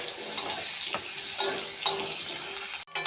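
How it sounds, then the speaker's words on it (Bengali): Potatoes frying with a little turmeric in a pan, a continuous close sizzle broken by several stirring scrapes, ending in a sharp clatter. "আলু ভাজা হয়ে গেছে"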